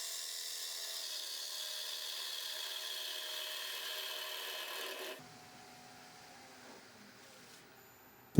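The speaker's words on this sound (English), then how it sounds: "so I'm just going to use that French curve scraper" A French curve scraper rasps steadily against the inside of a large wooden salad bowl spinning on a lathe, a continuous close scraping that stops partway through, leaving a fainter lathe hum.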